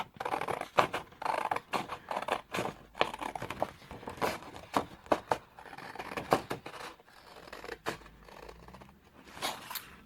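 Scissors cut through scored card for a small mini album, making a rapid series of close, crisp snips and rustles with brief pauses between cuts.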